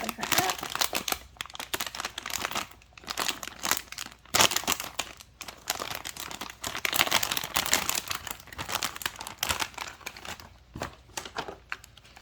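A doll's plastic packaging bag is opened with continuous crinkling and rustling, and a voice talks over it.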